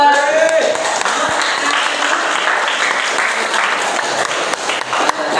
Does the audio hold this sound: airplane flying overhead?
no